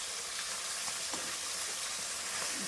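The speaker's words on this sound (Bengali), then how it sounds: "মাছ ভাজা হচ্ছে, বাটা মাছ।" Bata fish fries in a pan in a home kitchen, a constant bright hiss of hot oil with scattered small pops and crackles, close and steady with no voices.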